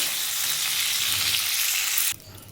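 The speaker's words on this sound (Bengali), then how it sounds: "দেখুন আমার ঢ্যাঁড়সটা ভাজা হয়ে গেছে বেশি লাল করবো না আমি এবার ঢ্যাঁড়সটা তুলে নেব তেল থেকে" Okra frying in hot oil in a home kitchen gives a steady, dense sizzle for about two seconds, then the sound drops off abruptly to a quieter hiss.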